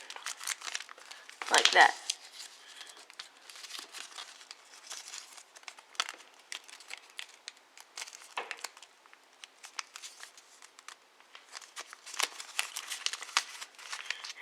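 A sheet of paper being folded into an origami snail, with close, crisp crinkling and creasing that comes in short bursts and one sharp rustle near the start, while a person talks quietly.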